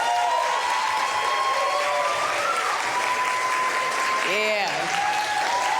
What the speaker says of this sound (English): A rousing round of applause.